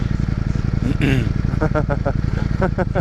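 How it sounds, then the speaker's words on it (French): A motorcycle engine keeps running on a Paris street while the bike is pushed, a steady, close low throbbing idle with a few short rising blips, under people talking. "il a pas éteint sa moto, qu'il a dû jouer à l'embrayage"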